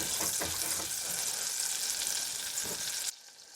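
Butter sizzles loudly and close in a pan over medium-high heat, a dense hiss that holds steady and then drops away abruptly near the end.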